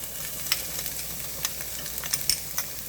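Onions and garlic cook quietly in a pan for a Puerto Rican style shepherd's pie, a faint steady sizzle broken by a few light spatula scrapes and taps.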